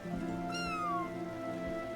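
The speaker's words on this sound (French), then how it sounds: "Daffodil est vraiment un chat, décidément." A single clear meow from a cat in the video game Spiritfarer rises and then slides down, heard over a steady bed of soft background music.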